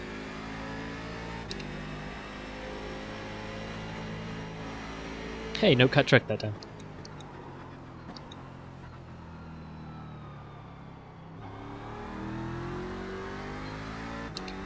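A Corvette C7 race car engine accelerating in the game iRacing, a steady droning hum with a short loud rev burst, then the engine note rising again, with someone talking over it.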